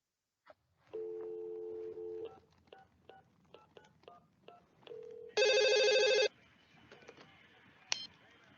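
A telephone in the comedy film Scary Movie gives electronic ringing tones and quick dial beeps, with a sustained ring burst early on, scattered short tones, and a second loud, dense ring near the end.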